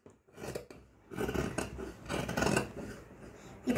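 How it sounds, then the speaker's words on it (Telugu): Scissors cut through cloth from an old top being reused to make a boat-neck blouse, giving close, soft crunching snips in a few uneven strokes with short pauses between them. "ఫ్రంట్ పార్ట్ కట్ చేసేద్దాం."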